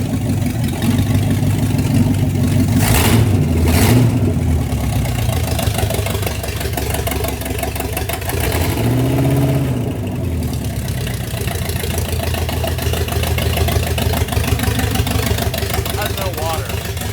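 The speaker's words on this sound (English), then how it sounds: "We can run for a minute and then shut it off, and we have a really good proof of life on this engine." A 1968 Pontiac Firebird engine runs with no exhaust fitted, a loud, raw, steady roar throughout, with people talking over it.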